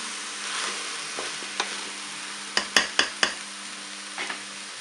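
Rice and salmon frying in a Cookeo multicooker, a faint steady sizzle under a low hum, broken by a few sharp clinks of a utensil against the pot near the end, no talk.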